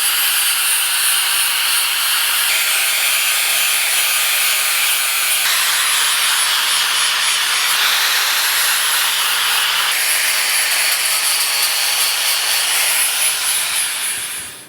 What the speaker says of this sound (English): What I recommend using is a flat disc to round over the edges on your anvil.